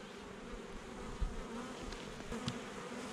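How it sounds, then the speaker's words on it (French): Honeybees hum around an opened hive during a spring inspection, a steady close buzzing drone with a few individual bees passing nearer the microphone. "Les abeilles sont relativement calmes"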